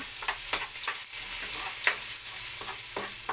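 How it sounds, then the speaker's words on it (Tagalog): Garlic sautéing in a pan gives a continuous close sizzle, punctuated by soft scraping and stirring strokes every half second or so, with no voices. "Igisa na po natin ang ating bawang."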